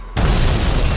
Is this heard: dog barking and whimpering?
no